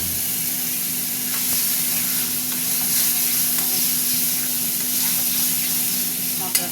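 Spice paste of turmeric, coriander and cumin powder sizzles loudly in hot oil in a pan for a spicy red fish curry, a steady close frying hiss with scraping stirs and a sharp clatter at the end.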